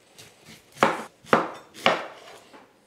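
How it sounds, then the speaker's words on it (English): A knife slices a red onion into half moons on a board, three firm, evenly spaced cuts standing out between lighter taps, close and clear with no one talking. "cut the onion through the root and then slice it into little half moons"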